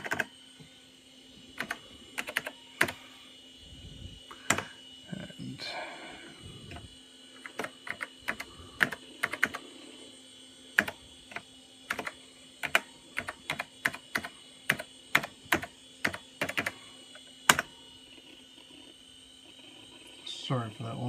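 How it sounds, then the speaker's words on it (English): Keys clatter on a NeXT computer keyboard in bursts of rapid typing, sharp close clicks separated by pauses, over a faint steady electronic hum. "sorry for that long typing there."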